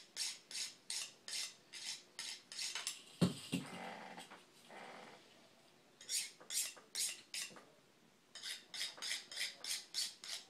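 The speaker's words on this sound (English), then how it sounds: "holding the sharpener at a 45-degree angle to the knife" A knife is drawn through a handheld sharpener held at an angle, giving repeated rhythmic scraping strokes in bursts, with a short clatter in the middle and no speech.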